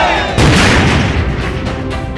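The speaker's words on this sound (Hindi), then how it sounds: "लाल किले पर से तिरंगे को सलामी देने का काम पहली बार मेड इन इंडिया तोप ने किया है" A Made in India cannon fires a ceremonial salute at the Red Fort, a loud, booming blast that rolls out across the open grounds and then keeps rumbling, with no voices heard over it.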